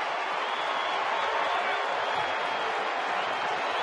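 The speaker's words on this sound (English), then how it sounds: "you can hear the crowd" Broad, steady roar of a baseball stadium crowd at a Dodgers game against the Diamondbacks, with the bases loaded in the eighth inning. It sounds like a continuous, distant wash of many voices that holds even for about four seconds, with no single voice standing out.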